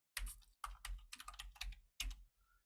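Keystrokes from a computer keyboard as a SQL command is typed, coming in several quick bursts of clicks separated by short pauses, close and clear with no talking.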